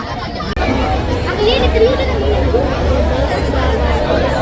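Dense crowd chatter fills a village Hanuman Jayanti feast in Belavali, many overlapping voices forming a steady, close hubbub throughout, with one nearby speaker audible above the babble.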